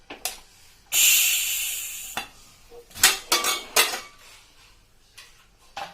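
Opening of a cooled pressure cooker of cooked whole moong dal in a home kitchen: a rushing hiss of released steam, then several sharp metallic clanks and clinks of the lid and pot, close and loud, with no talk.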